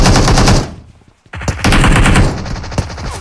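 Rapid automatic gunfire from PUBG Mobile rattles in loud, dense bursts, breaking off for a moment before another long volley of close, sharp shots resumes.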